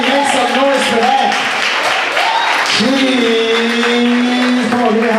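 An audience at a spoken word poetry performance applauds and cheers continuously while someone talks loudly over the clapping.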